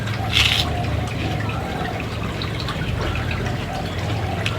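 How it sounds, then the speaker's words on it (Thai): Steady broadband rush of a waterfall outdoors, constant and moderately loud throughout, with a brief higher hiss near the start and faint bird-like chirps scattered over the continuous roar. "บรรยากาศน้ำตก"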